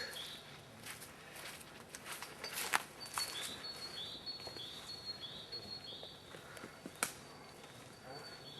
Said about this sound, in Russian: птицы некоторые есть, птицы поют